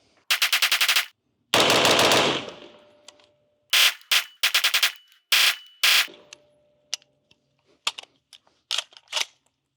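Caracal CAR816 rifle firing in rapid bursts and single shots, loud and sharp with short pauses between strings, outdoors with no talk.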